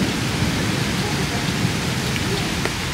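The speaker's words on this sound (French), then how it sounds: "Regardez comme il pleut" Heavy rain falls in a steady roar outdoors in Toronto, with a low rumble of thunder woven beneath the dense, continuous patter of drops.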